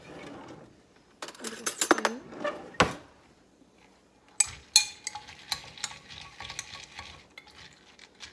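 Pumpkin seeds being mixed with pure maple syrup and cinnamon in a bowl: irregular close spoon clinks, scrapes and sticky stirring sounds separated by short quiet gaps.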